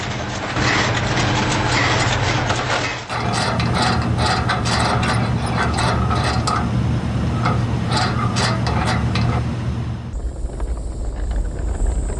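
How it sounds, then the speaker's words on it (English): A farming machine runs with a loud, continuous mechanical clatter of ratcheting gears over a steady engine drone, close up and without voices. "This machine cuts farming time and labor down to almost nothing."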